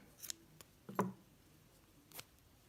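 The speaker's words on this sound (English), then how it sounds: "chain 1 and cut your yarn" Scissors snip through yarn after a row of crochet, giving a couple of quiet, brief clicks and snips with pauses between them in a hushed room.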